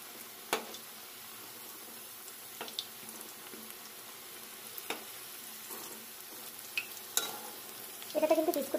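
Potato fritters in batter frying in a pan, a faint steady sizzle with scattered sharp clinks and scrapes, then a brief louder bubbling burst near the end, with no voices.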